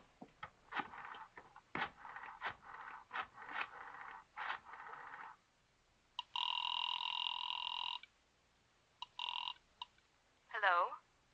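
Telephone line sounds from an old radio drama: a string of dial clicks, then a steady ringback tone repeating a few times, ending in a brief warbling burst, all close and clear.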